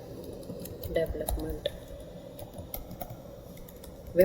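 Computer keyboard typing while entering HTML headings, light scattered key clicks heard beneath steady talking throughout.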